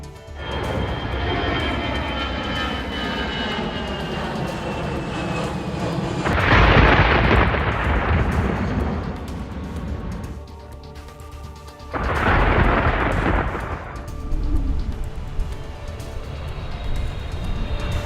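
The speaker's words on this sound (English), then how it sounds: "Our trip on the Finnair Airbus 320 on August 13th is moving through the storm area." Aboard a Finnair Airbus A320 airliner flying through a thunderstorm, a steady loud engine roar fills the cabin and swells twice into deep, rumbling surges.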